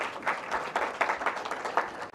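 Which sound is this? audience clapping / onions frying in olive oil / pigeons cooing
audience clapping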